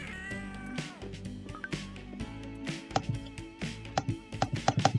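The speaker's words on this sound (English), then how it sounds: "Let's go pet a kitty cat." Cats in a cat cafe video game meow repeatedly when petted, giving several close, clear mews with tapping clicks and game sounds that build into a quick run of short hits toward the end.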